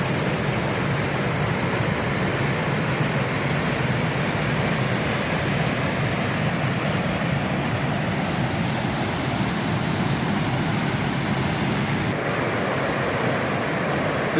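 Little Niagara Falls on Katahdin Stream in Maine pours in a steady, dense roar of rushing water, close and loud throughout with no voices.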